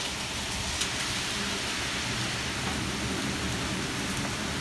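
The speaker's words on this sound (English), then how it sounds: "Yeah, that's hail." Pea-sized hail falls during a severe thunderstorm with 40 mph wind, a dense, steady roar of pelting ice and rain on surfaces, continuous and loud with no voices.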